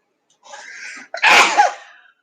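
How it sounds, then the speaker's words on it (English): A single close, loud human sneeze: a short sharp intake of breath, then an explosive burst of air, alone with no talk. "Sorry about the sneeze."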